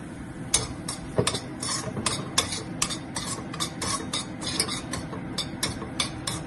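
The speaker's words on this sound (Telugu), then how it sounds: "ఇప్పుడు రవ్వ ఇలా దోరగా వేగుతుంది అండి" Semolina (rava) roasting in a pan for rava laddu, with a spoon scraping and tapping against the metal in a steady stirring rhythm, close and clear over a faint low background.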